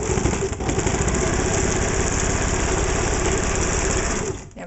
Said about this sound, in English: Very, very thick leather from Motorcycle Chaps.